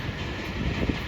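The 7 Up passenger train from Karachi to Rawalpindi rolls past, giving a brief steady rumble of rail noise with faint wind.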